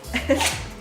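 A short, sharp sneeze bursts out indoors among a home breeding setup for Australian Shepherds, a single loud explosive snort with a brief voiced edge, close to the microphone.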